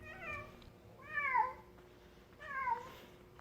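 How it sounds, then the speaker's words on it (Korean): A female stray cat gives three drawn-out, wavering mating cries in a row with short pauses between them. The calls are fairly faint against quiet background noise. "번식을 위해 암컷이 수컷을 유인하는 울음소리를 크게 내기도 합니다"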